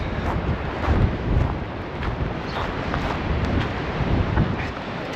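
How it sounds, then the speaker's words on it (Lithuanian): Strong cold wind blows down from the mountains on a winter coast in Spain, a dense, continuous roar buffeting the microphone with rumbling gusts and no voices. "Ir vėsų, ir vėjas didelis."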